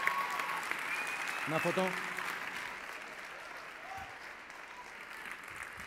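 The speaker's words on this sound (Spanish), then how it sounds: "Fuerte aplauso para nuestra ganadora." An audience at a sports gala applauds a winner: a moderate, even clapping that carries on under brief nearby speech and fades slightly toward the end.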